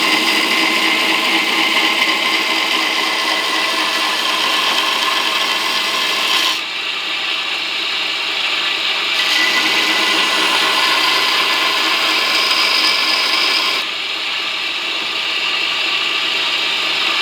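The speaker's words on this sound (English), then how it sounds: "We're going to grind right up to it with a shallow grind." Steady, loud abrasive grinding of a stock removal knife's bevels with a shallow grind, running continuously with two brief dips where the blade lifts from the belt, no talk.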